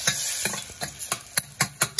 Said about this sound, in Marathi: आता आपण आपला गोडा मसाला ॲड करूया, म्हणजे आपला काळा मसाला छान त्याची परतून घेऊया.